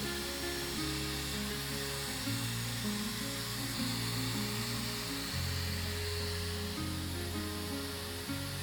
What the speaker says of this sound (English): Using it is so much easier because now the blow drying and the rolling is happening with just single hand